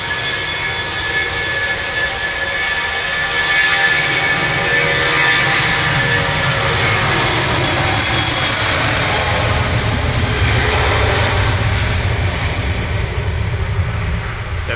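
A KLM Airbus A321neo on approach to Manchester Airport gives a steady, loud jet engine roar with a broad rushing whine that holds evenly throughout, with no voices.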